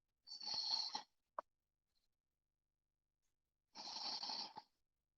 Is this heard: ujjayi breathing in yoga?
yes